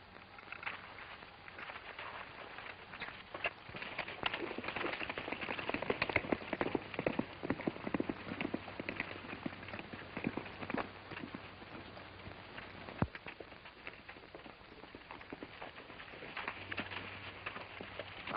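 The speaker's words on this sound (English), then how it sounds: "Say, Stoney, how about using your horse? He's faster than mine." Hooves pound in a fast, continuous gallop, muffled and slightly distant, keeping a steady driving rhythm throughout.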